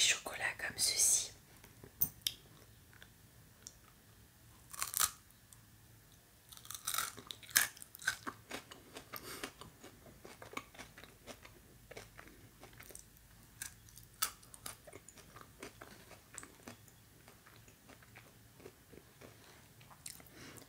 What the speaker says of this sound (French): Ensuite, je vais goûter un petit chocolat comme ceci.